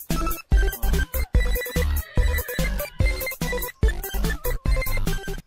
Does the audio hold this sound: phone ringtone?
yes